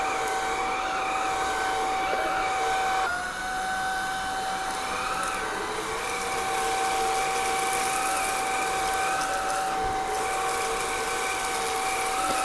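A stick vacuum cleaner with many bristle brushes runs over carpet scattered with rice, giving a steady, close motor whine and airy hum that continues unbroken, with a slight shift in pitch partway through.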